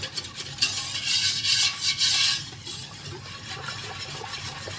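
Sugar and pectin are whisked together in a bowl for rose petal jelly, producing a close, gritty rasping swish that rises in a burst of quick strokes, then fades to softer rubbing.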